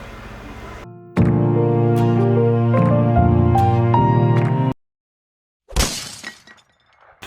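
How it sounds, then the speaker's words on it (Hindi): A single sharp crash of breaking glass, bright and scattering, that fades quickly. It comes right after a stretch of sustained music and a short silence. "ये कांच कैसे टूट गया?"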